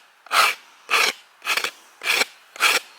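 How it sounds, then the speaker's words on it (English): A rasp filing a bamboo bow limb in five even strokes, each a rough, scratchy rasp about half a second long separated by short pauses, close and clear with no talk. "you want to let the rasp, the tool, do the work"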